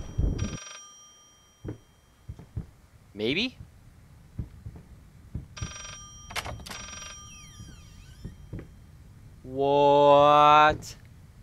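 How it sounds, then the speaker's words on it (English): An old telephone rings in the horror video game Layers of Fear, with repeated ring bursts among creaks, footsteps and a louder tonal swell near the end, while someone talks over it. "But aren't I going the opposite way of where the phone was ringing?"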